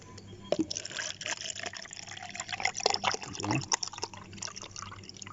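Cloudy rice-washing water is poured into a glass, a close, continuous splashing trickle with drips that shift in pitch as the glass fills.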